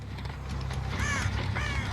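Two harsh crow caws sound one after the other in a video game, set over a steady low hum of game background noise.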